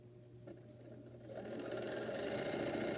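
A sewing machine stitching a quilt, starting with a low motor hum and light clicks, then settling into a steady, fast whirring run that grows slightly louder, close by and alone without talk.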